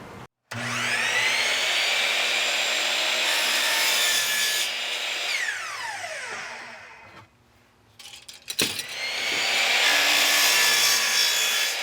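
A power saw cuts steadily through a wooden board, a loud sustained buzzing whine that stops briefly, then resumes for a second long cut.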